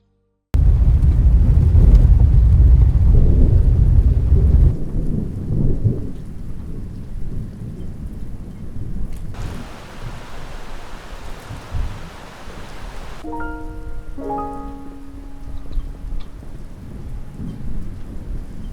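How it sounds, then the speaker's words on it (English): A heavy tropical thunderstorm over a rainforest cottage: a loud, close rumble of thunder opens, then steady downpour hisses on surfaces and gradually eases, with a few tonal chirps or calls near the end. "this very rainy week felt like Kai Kai was trying to get us all underwater all over again"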